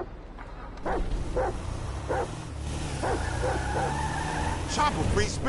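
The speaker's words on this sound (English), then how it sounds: "He bark all he like." A dog in GTA V barks and yips repeatedly in short bursts over a steady rumble of game ambience and vehicle noise, the barks clear and fairly close.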